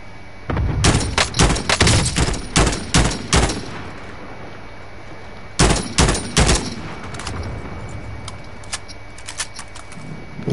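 PS4 video game gunfire rattles in rapid, loud bursts of automatic shots for several seconds, pauses, then returns in another short volley before fading to quiet background ambience.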